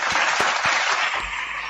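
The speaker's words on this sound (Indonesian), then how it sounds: "Gitu, tepuk tangan dulu." An audience breaks into brief applause, a dense burst of clapping with a few sharper individual claps standing out over a steady wash of hand noise.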